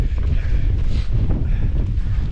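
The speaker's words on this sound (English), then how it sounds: "It's that windy." Strong mountain wind on Great Dodd in the Lake District roars and buffets the microphone continuously, a heavy low rumble with gusty surges throughout and no voices.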